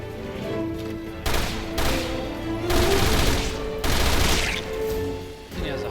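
Rapid enemy gunfire in the video game Resident Evil Revelations 2, bursts of automatic shots coming in several loud volleys separated by brief pauses, with no talking.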